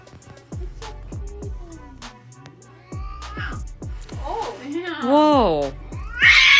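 A cat meows several times in rising, wavering cries near the end, after a series of sharp thumps and clicks, with faint background noise.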